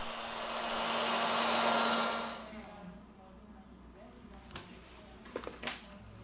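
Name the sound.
heat gun heating phone to remove battery cover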